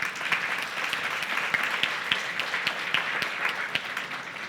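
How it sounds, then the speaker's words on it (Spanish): An audience at an International Archives Day panel applauds to welcome panelist Pablo Corona Fraga, president of the Asociación de Internet MX, with a lively, continuous patter of many hands and sharp individual claps standing out. "Un aplauso, por favor."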